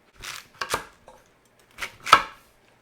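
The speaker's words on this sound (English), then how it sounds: "I'm going to chop all this stuff up" A knife chops stock vegetables on a cutting board in separate bursts of sharp, close thuds, a few quick strokes, then a pause, then two more, with no talking.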